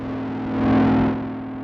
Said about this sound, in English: That's right, the distortion remains the same.